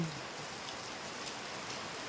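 Steady rain falls on a morning with schoolchildren heading out, a continuous even hiss of drops with no pauses and no voices.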